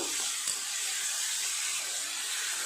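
Onion with ginger-garlic paste frying in a pan, a steady, close sizzling hiss that holds evenly throughout with no talking.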